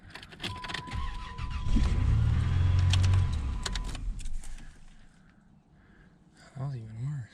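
Car engine after a head gasket repair, cranking and catching at close range under loud talk, then running a few seconds before a brief revving whine near the end.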